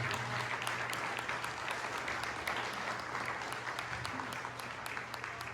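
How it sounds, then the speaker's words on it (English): Sustained audience applause at a candidate forum hosted by a Republican club, a dense steady wash of many hands clapping at fairly close range throughout, with no talk over it. "Give these guys a round of applause for taking random questions like that."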